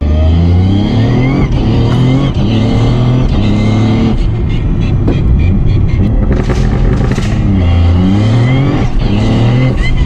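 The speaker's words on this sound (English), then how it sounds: "I'll show you some footage of it on the dyno and then do some street driving" A Toyota GR Yaris with a sequential gearbox revving hard on a dyno, a loud, continuous engine roar climbing through the revs in repeated rising sweeps with brief dips at each gear change.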